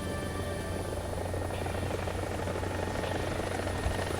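Helicopter in War Thunder simulator mode with the cockpit doors opened, a steady loud rotor and engine drone holding constant with no pauses or talk.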